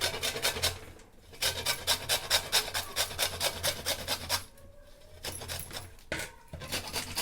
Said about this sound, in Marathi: तर आपल्याला अगोदर ही कणीस किसून घ्यायचं आहे.